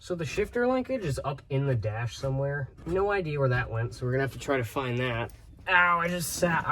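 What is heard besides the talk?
None of the usual background noises is heard.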